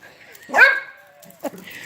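A 14-year-old dog gives one clear, loud bark, then a shorter, softer yip a moment later, with quiet background in between.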